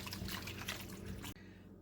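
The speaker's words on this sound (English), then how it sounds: "I'm going to add the sauce into here and stir it in" Whisked stir-fry sauce for black pepper chicken pours into a hot pan with a soft, faint wet splashing and trickling for just over a second, then stops abruptly.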